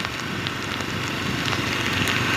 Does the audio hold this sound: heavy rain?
yes